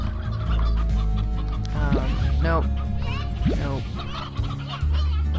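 Rooster clucks and short calls from the video game Slime Rancher, several birds overlapping against a steady loud game hum, with a brief spoken word from a person.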